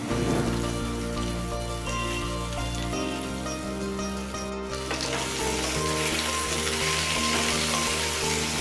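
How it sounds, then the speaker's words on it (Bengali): Steady sizzle of potatoes frying in a pan over medium flame, heard under continuous background music. "মিডিয়াম ফ্লেমে ভালো করে নাড়াচাড়া করে আলু ভেজে নেব"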